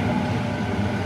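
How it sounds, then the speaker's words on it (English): A Waratah B set electric train passes Harris Park station, a steady, loud rumbling roar with no break across the short moment. "And I'll cut to the next train. A Waratah B set, Parramatta via Granville"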